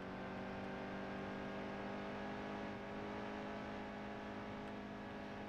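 A NASCAR race car engine in the NASCAR Heat 2 video game, held at half throttle, makes a steady, even drone with a constant pitch and no talking over it.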